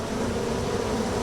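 A honeybee drone, the larger male bee, buzzes in a steady low drone, close and continuous without pause, with no voices.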